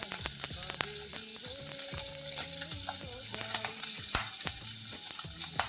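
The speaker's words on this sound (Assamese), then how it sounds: "তেল এড নকৰাকৈ গাহৰি মাংসটো অকণমান ভাজি লৈছোঁ" Pork pieces fry in a pan with no added oil, giving a steady crackling sizzle with sharp pops and occasional stirring scrapes close by.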